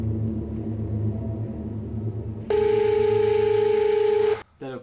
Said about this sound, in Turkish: telefon çalıyor çocuğun aklı gitti la.